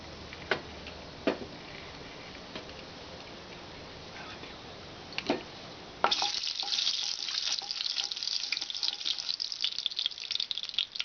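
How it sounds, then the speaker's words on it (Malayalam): Mustard seeds in heating oil for lime pickle give a few isolated ticks at first, then break into a dense, crackling spatter of rapid pops that fills the second half. "കടുക് പൊട്ടാൻ തുടങ്ങിയിട്ടുണ്ട്."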